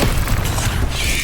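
The Accio summoning spell cast in Hogwarts Legacy, heard as a loud, full rushing whoosh with a low booming body that swells steadily and fades slightly near the end, with no talk.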